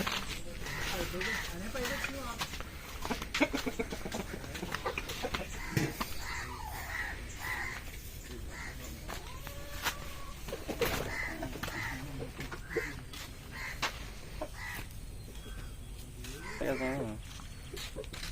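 Game roosters, heavy fighting cocks kept at a breeding setup ahead of Sankranti cockfights, crow and cluck repeatedly through steady background noise, with someone talking over much of it.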